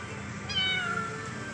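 Homeless kittens by a roadside give a thin, high, wavering meow, one short cry heard close over a steady background hum.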